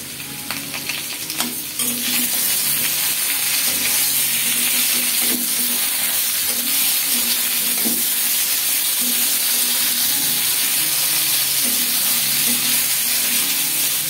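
Ingredients for a rohu fish curry frying in a covered pan, a loud, steady sizzle and hiss with occasional sharper pops and stirring scrapes, continuous throughout with no talking.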